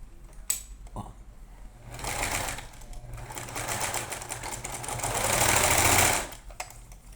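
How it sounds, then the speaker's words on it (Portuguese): A sewing machine stitches a fold on a handmade fabric craft kitten, a fast steady mechanical whirring run of several seconds that swells louder before stopping abruptly, following a couple of soft clicks. "Vou até passar uma costurinha rapidinho aqui, pra não soltar na hora que a gente colocar."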